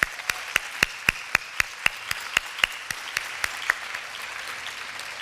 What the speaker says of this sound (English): give a special round of applause to Chief Heavey and the Police Department for their work